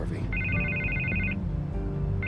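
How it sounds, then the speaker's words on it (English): A telephone rings in a Batman video game, two bursts of bright electronic trilling with a pause between, close and clear over a continuous low rumble and a talking voice. "I can't get the phone to stop ringing."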